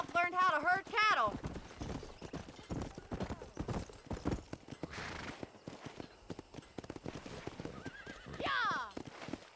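Horse hooves clip-clop and a horse whinnies loudly in the Red Dead Redemption game, with a second neigh near the end and a voice talking over the riding sounds.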